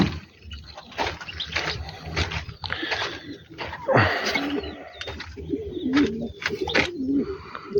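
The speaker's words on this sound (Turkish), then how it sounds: "Evet burada da kuşları var." Tumbler pigeons kept by a bird keeper in Ankara give soft, repeated throaty coos in uneven bursts close by. Faint background noise runs underneath.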